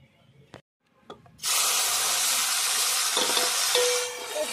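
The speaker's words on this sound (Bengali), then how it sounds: "আমি এরপরে উচ্ছেটা ভেজে নেব। উচ্ছে ভাজবো এরপরে।" Bitter gourd slices hit hot oil, bursting into a loud, steady frying sizzle that carries on for several seconds after a few soft knocks, with no talking.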